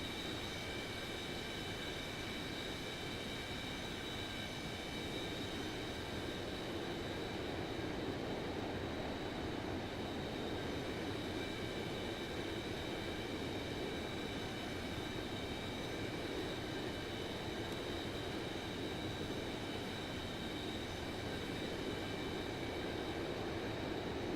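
Boeing 737-200 jet engines in a flight simulator give a steady, loud broadband roar with a constant high whine running through it, unbroken and with no talk for the whole stretch.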